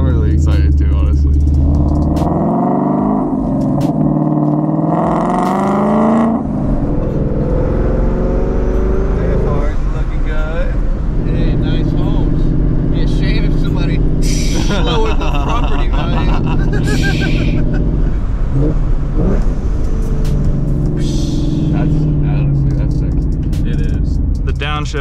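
A supercharged Ford Mustang pulls hard toward redline, engine roaring loud with pitch climbing across gear shifts, heard from inside the cabin while people talk excitedly over it.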